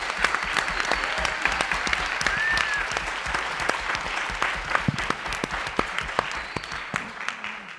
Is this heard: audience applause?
yes